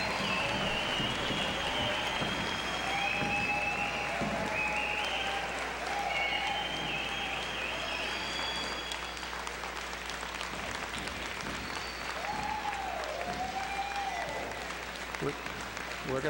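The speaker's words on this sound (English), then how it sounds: "Let's give them a round of applause." A graduation crowd at the 2009 SKC ceremony applauds the new graduates with steady, continuous clapping and scattered cheers and whistles throughout, fairly distant and even in level.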